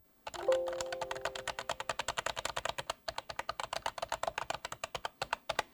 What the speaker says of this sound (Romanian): nefiind o tastatură mecanică, este o tastatură cu membrană și se aude ceva de genul acesta